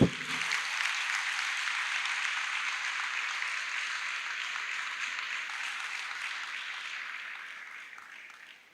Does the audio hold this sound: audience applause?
yes